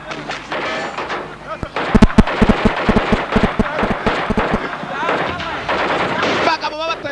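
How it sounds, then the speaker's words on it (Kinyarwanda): Gunshots in an action film, a rapid burst of loud, sharp bangs in the middle amid score and effects, with a narrator talking over the film soundtrack. "yeah gunshots"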